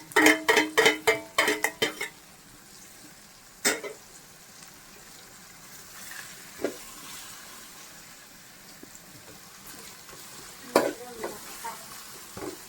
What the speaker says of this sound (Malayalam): അടുത്തിട്ട് നമുക്ക് അരിഞ്ഞ് വെച്ചിരിക്കുന്ന സവാള ഇട്ട് കൊടുക്കാം.